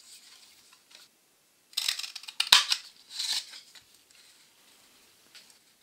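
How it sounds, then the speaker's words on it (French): Scissors snipping a paper pennant for a children's mini album, a short cluster of crisp close cuts in an otherwise quiet setting. "Je vais venir découper un fanion que je positionnerai comme ceci."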